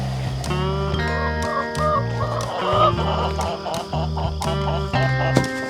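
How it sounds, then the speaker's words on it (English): A flock of chickens clucks and chatters near a coop as they are let out, with overlapping, busy calls over a steady low engine-like drone and occasional knocks. "let these chickens out."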